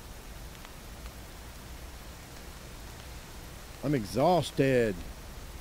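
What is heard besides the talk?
rain in the video game Hobo: Tough Life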